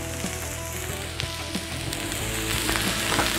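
Burger buns toasting on the edge of a Cuisinart 360 griddle beside smash burgers, a constant close sizzle and crackle with light pops, growing slightly louder toward the end, no talking.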